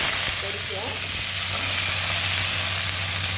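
Small onions and garlic sautéing in hot oil for Chettinad garlic kuzhambu, a steady, loud, close sizzle with faint stirring and no break.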